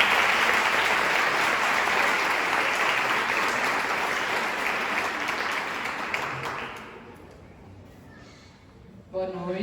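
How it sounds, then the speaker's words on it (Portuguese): Audience applauds for Dr. Paula at a family-week event, with sustained, dense clapping that fades out after about seven seconds, followed by quiet and a voice starting at the end. "Uma salva de palmas para a doutora Paula"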